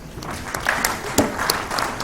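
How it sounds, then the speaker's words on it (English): Conference audience applauding as a cyber security analyst is introduced on a panel, a sustained wash of many hands clapping with a few sharper claps standing out, no talking over it. "Round of applause, please."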